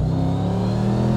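Mercedes-McLaren SLR engine revs up close in a loud, steady rising drone with a deep rumbling exhaust tone, heard alone without talk.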